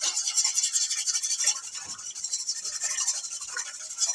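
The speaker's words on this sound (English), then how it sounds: "Whisk that, whisk that soup" Soup whisked in a pot, a quick rhythmic scraping swish repeating steadily and close by, fairly loud and uninterrupted, with no voices.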